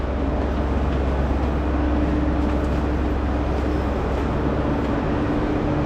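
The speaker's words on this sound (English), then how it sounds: "Oh yeah, definitely a train station." Steady indoor hubbub of a train station in the Scottish Highlands, a continuous low rumble with a faint hum running throughout and no distinct announcements or voices standing out.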